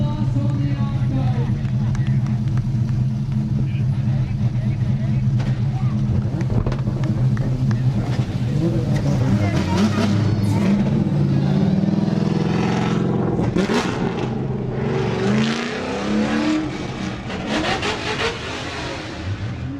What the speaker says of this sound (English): Whose car is that on the racetrack right now?